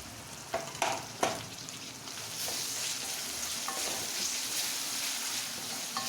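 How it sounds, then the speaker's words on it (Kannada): Chopped tomatoes fry in a pan for egg fried rice, with a few sharp spoon knocks at the start followed by a steady, fairly quiet hiss of frying. "ಇವಾಗ ಚೆನ್ನಾಗಿ ಫ್ರೈ ಮಾಡ್ಕೊಳ್ಳಿ."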